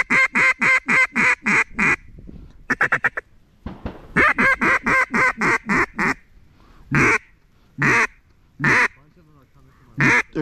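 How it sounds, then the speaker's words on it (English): Wood ducks call in repeated loud, nasal quacks on a Wisconsin public-land hunting opening day, coming in rhythmic bursts close to the microphone with short pauses between series. "I think they're wood ducks."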